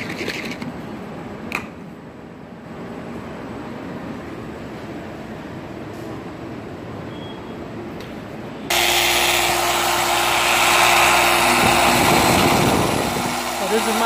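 A polisher with a 3-inch wool pad compounding a car headlight during mobile detailing starts abruptly partway through and runs as a loud, steady whirring drone to the end, after a stretch of quiet background.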